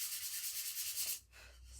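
An electric sander lightly sanding a wooden wagon insert, a close, steady buzzing hum with a slight pulsing rhythm that drops in pitch and loudness near the end.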